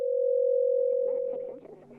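A steady single-pitch cell phone call tone sounds clearly for over a second, then fades as a faint voice begins underneath.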